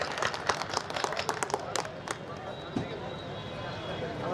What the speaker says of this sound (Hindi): जोरदार तालियां बजनी चाहिए एक बार।